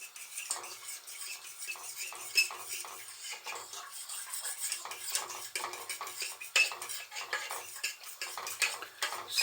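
Custard being stirred over rhubarb in a pan, a spoon scraping and clinking steadily against the metal in quick, close, uneven strokes with no talking.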